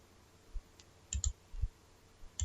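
A computer mouse clicks during PCB design work, with sharp, close, quiet clicks: a single click, then a quick double pair, another single and a final pair against a faint background hum.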